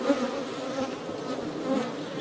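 Honey bees buzz around beehives that have been split, a dense steady drone from many insects close by, loud and continuous with no talk.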